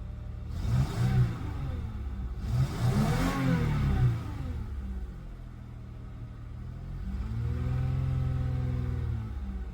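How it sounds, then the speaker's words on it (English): A car engine with a catalytic converter under back-pressure testing revs up twice to about 2500 RPM from idle, then holds a steady raised hum; close, loud and alone with no talking. "Gonna go ahead and rev it up."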